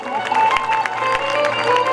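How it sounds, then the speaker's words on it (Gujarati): An audience at a live Gujarati dayro folk performance in Anand claps to welcome the organizers, a steady patter of hands over sustained musical tones, moderately loud throughout. "સૌ બે હાથના તાળીઓના સાથથી જોરદાર રીતે વધાવી લેશું"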